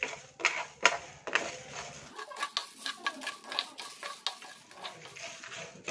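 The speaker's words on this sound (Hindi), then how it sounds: "1 टीस्पून राई यानी के मस्टर्ड सीड, 1 टीस्पून जीरा, इन सबको डालकर थोड़ा ड्राई रोस्ट कर लेंगे।" Mustard seeds, cumin and coriander seeds dry roasting in a pan, with a few louder scrapes and stirs at first, then a steady run of light crackles, pops and rattling seed movement close by.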